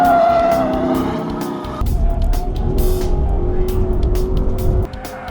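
A Ford Mustang muscle car laps the winding Sriperumbudur race track during a track day, its engine droning loud and close with sliding pitch, abrupt gear changes and a sudden drop in revs near the end.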